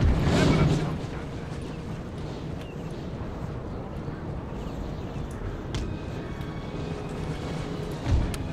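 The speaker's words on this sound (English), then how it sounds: "A lot of cannon fire hitting my original deployed regiment of" Napoleonic-era cannon fire in a Napoleon: Total War battle, a dense continuous rumble of distant artillery and battle noise, with a heavier boom near the start and another near the end, with a voice talking over it.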